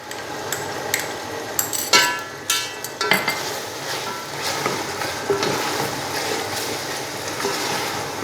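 Mutton pulao sizzles and fries in a pot as whole black peppercorns and ground green chilli go in, with crackling hiss, sharp metallic clatters of stirring and scraping, and several loud spoon knocks.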